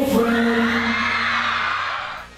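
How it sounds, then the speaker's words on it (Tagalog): Fans shriek and cheer at a teen boy group concert at SM Taytay, a loud sustained wash of high-pitched screaming from a crowd that fades slightly toward the end. "todo tili at hiyawan na mga tagahanga nang mag-perform na ang hottest teen"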